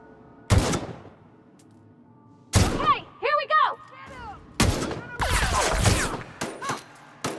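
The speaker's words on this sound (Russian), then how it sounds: "У босса просто пушка очень мощная" Heavy gunfire from a boss's powerful gun in the video game The Outer Worlds booms in loud, separated bursts, with a quick warbling electronic effect between them and a dense final volley of shots.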